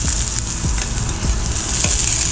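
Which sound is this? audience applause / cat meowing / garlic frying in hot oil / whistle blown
garlic frying in hot oil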